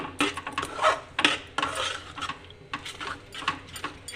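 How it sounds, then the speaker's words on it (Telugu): A spoon scrapes and knocks against a pan while thick Karachi halwa is stirred, irregular close strokes and clinks with no voices. "కలుపుతూ ఉండాలండి లేకపోతే మనకు వాడి వాడగంటిపోతుంది"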